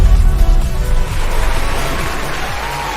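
Crowd applause and cheering from a livestream intro sound effect, a loud, dense and continuous wash of clapping that fades slightly toward the end.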